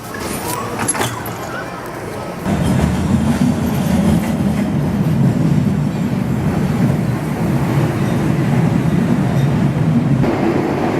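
Steady rumbling roar of a Boston T subway train in motion, with a jump in loudness partway through and a constant low rattling drone.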